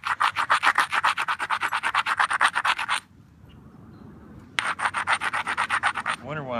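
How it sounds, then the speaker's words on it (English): Stone edge being scrubbed during flintknapping of an odd-shaped rock, a close, loud, rapid rhythmic rasping of about fifteen strokes, a pause of quiet, then another burst of quick scraping strokes. "I wonder why I'm scrubbing it that much"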